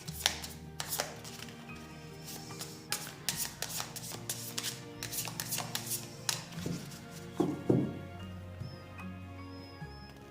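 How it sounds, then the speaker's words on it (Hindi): A Light Seers tarot deck is shuffled and cut by hand, giving a run of crisp card riffles and soft slaps in uneven bursts, close and moderately loud with no talking. "I was cutting the deck but I pulled a card."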